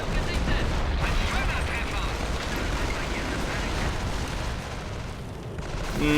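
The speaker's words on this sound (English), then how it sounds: "They're trying to set off the mines." Mines exploding in a Company of Heroes match: dense, continuous battle noise with blasts and booms rumbling throughout, fairly loud, mixed with game chatter.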